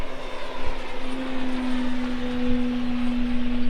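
An Eflite T28 Carbon Z radio-controlled model airplane flies overhead, its electric motor giving a steady, buzzing whine with a sustained tone, fairly loud and slightly wavering as it passes.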